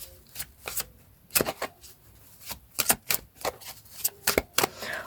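Lenormand cards being shuffled by hand, a series of quick, close riffling bursts in uneven clusters with short pauses between them.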